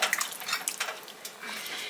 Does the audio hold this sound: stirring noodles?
yes